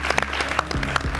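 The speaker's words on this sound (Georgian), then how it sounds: "აპლოდისმენტები." A studio audience on a televised lie-detector game show breaks into a short burst of dense applause, the clapping brisk and moderately loud throughout.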